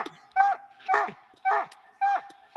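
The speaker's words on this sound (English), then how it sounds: "Dog's loud." A dog barks loudly and repeatedly in a steady rhythm, five sharp barks at close range with no talk over them.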